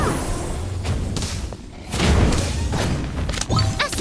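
Fantastic Bomb going off in Harry Potter Magic Awakened, with a heavy thudding blast rising after a brief lull, followed by rumbling and swishing effects, loud and close in a busy game scene.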